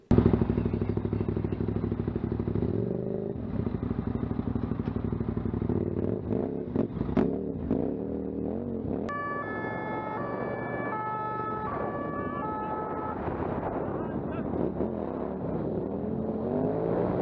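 A motorcycle engine drones and revs during a police chase, and partway through a wailing siren comes in over it, all loud and continuous with no talk.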